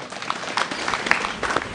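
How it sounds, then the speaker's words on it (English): A crowd at a burial ceremony in Teso breaks into light, scattered applause, faint and somewhat distant, with a few brief louder claps rising out of a diffuse patter. "May we clap for them."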